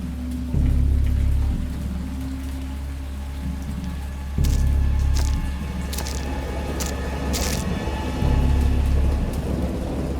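Heavy rain pours steadily in the Dagon game, with deep rolling thunder swelling three times over the downpour, near and loud.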